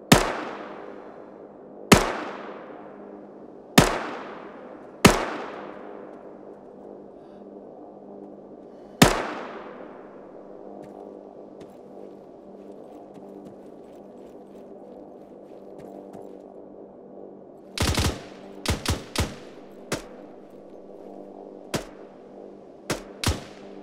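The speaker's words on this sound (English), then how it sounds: "I'm taking fire from the roof of the mosque." Single gunshots in Arma 3 crack out at intervals, each trailing off in a long echoing decay, followed later by a quicker cluster of sharper shots against a low background hum.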